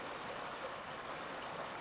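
Sunrise Creek on a Yosemite hiking trail flows steadily, a close, even broadband rush of running water with no pauses and no talking.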